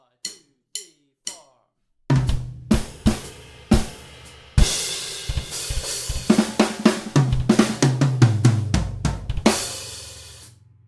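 A drum kit fill for an SQA Advanced Higher piece opens with three sparse rim clicks counted in. A dense burst of tom hits and snare strokes follows and builds louder toward a crashing, cymbal-washed end.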